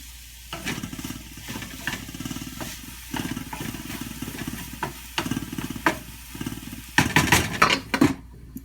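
Sweet potato and sprouts sizzle steadily in a hot stir-fry pan, overlaid by a repeating pulse of scraping stirs against the pan, getting louder with clattering near the end.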